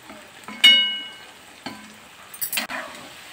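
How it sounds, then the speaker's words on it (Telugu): Bitter gourd pieces fry in hot oil in a kadai, giving a soft sizzle broken by a few sharp metallic clanks and scraping stirs. "ఇప్పుడు నూనె వేడైన తర్వాత వేయించుకోవాలి"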